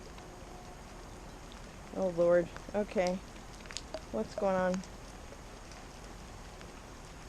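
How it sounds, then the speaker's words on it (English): Pouring rain at night during an outdoor look at Christmas lights, a steady broadband hiss throughout, with someone speaking briefly over it midway. "I'm standing in the pouring rain"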